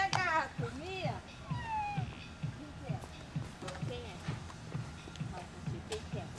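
A child imitates a cat with a few drawn-out meows during a classroom guessing game, followed by quiet shuffling footsteps and soft taps as others listen.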